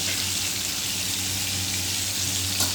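A spice paste sizzles and fries in a hot pan, a steady, close, even hiss of frying that holds throughout with no voices over it.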